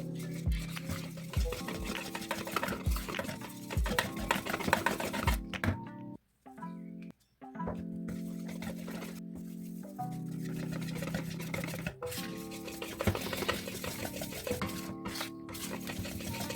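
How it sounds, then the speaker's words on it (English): Flour is being worked into a dough by hand or spoon, a steady, close rhythmic stirring and slapping with brief pauses, continuing for the whole stretch without any talk. "You mix it until you get to that consistency you want."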